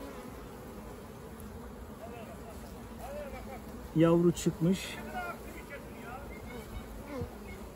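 Honey bees drone steadily around an open hive during a frame inspection, with someone speaking briefly in the middle over the continuous buzz.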